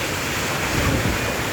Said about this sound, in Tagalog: Ang lakas ng hangin, ang lakas ng ulan.